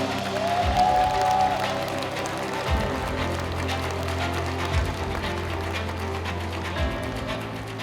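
A crowd at a book launch event in Wonju claps to welcome an author onto the stage: a steady wash of applause holds for several seconds, joined by a few dull thumps and a brief whistle-like tone.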